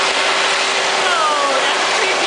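An XLERATOR hand dryer roars with a loud, steady, broadband blast of air that holds evenly for the whole stretch, with no voices over it.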